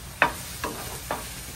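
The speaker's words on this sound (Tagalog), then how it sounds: "Okay, mainit na. Gigisa-gisa na naman tayo." Garlic being sautéed in a hot pan gives three quick, faint sizzles and stirs, each a short scrape and hiss spaced about half a second apart over a quiet background.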